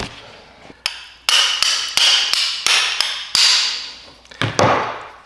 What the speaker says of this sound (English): I'm gonna get a hammer and just tap it.